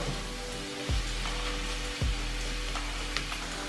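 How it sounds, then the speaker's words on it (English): Ground beef browning in a pan for cheesy beef enchiladas, a steady close sizzle and crackle of frying meat with two brief scraping stirs, no talk. "keep chopping this up and cooking it down until the mixture is nice and brown and the chunks are not too big"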